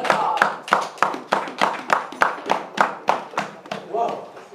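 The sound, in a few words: congregation clapping in a church service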